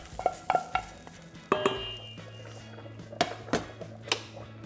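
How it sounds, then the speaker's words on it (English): A spoon stirs beans mixed with mayo, lime and Southwestern seasoning in a bowl. It makes scattered clinks and wet scraping strokes, close and moderately loud, with short pauses between them. "Mix this up"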